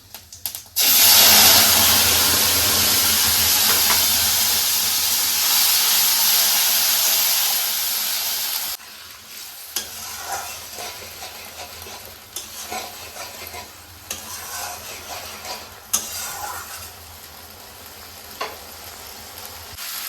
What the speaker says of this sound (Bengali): সাদা জিরে একটু ফোড়ন দিচ্ছি আর 2টো তেজপাতা দিয়ে দিচ্ছি।